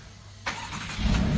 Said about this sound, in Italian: e vai con la prima accensione.